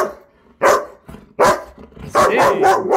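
A female German Shepherd lets out a few loud, close barks, a single bark, a pause, another, then a quick run of three or four barks at the end.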